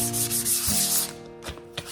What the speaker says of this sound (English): This is 2500 grit sandpaper. And I'm just going to rub the filler in.